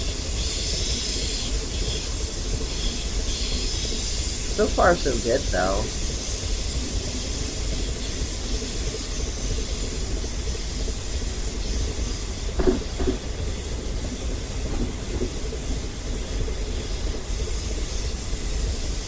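Network SE train running between London Bridge and Victoria via Crystal Palace in Train Simulator 2019, a steady low rumble and hiss climbing a steep incline, with someone talking briefly over it.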